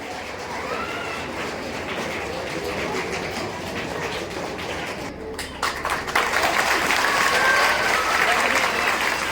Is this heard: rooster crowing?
no